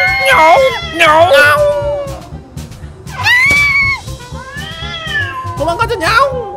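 Several voices mimic cats in a Minecraft role-play, trading loud, drawn-out meows with rising and falling pitch, some overlapping, over faint background music.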